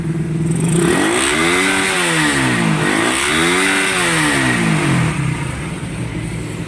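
Motorcycle engine with a gear-shifting fault revved up and down twice in rising and falling sweeps, loud and close with mechanical clatter, no talk.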